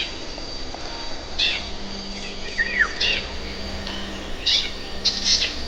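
A crossbill in the Bidoup forest gives several short, sharp chirping calls at irregular intervals, fairly close, over a faint steady insect hum.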